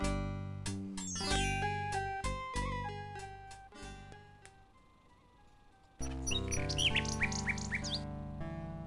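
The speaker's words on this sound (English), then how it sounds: "A nightingale perches on a high branch of the tree. She sings the most beautiful song Alexander has ever heard." A nightingale sings in the video game King's Quest 6, a synthesized melody of bright chirping notes and trills that fades out, then resumes with fresh rapid warbling figures.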